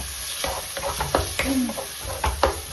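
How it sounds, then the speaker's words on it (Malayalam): Tomatoes are stirred into frying beef curry, a close crackling sizzle broken by repeated spoon scrapes and knocks against the pan over a few seconds, with no speech. "തക്കാളിയും കൂടി ഇട്ട് കൊടുത്തിട്ടായിട്ട് നല്ലോണം മിക്സ് ആക്കാം."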